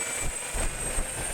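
Huey helicopter rotor spinning up in the DCS flight simulator, a steady droning engine and rotor whine with faint rhythmic pulsing, fairly quiet and unbroken with no talk.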